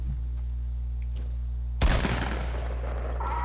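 Video game gunfire breaks out as a sudden loud burst of rapid shots over a low steady hum, then continues as dense, sustained firing.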